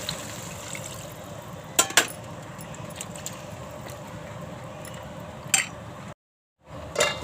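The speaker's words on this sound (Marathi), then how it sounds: "वाटपामध्ये पाणी घालून घेते" Water is poured into a ginger, garlic, onion and coconut masala paste in a cooking pot, a soft trickle with a few sharp clinks of a vessel, close and fairly quiet.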